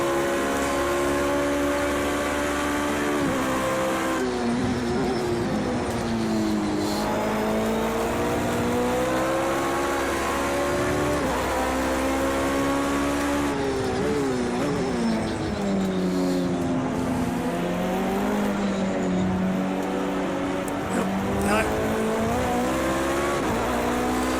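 A modded Pavey Longhood S race car in Project CARS 2 roars continuously, its loud engine note climbing and dropping through gear changes and corners, with faint tire squeal and no talking.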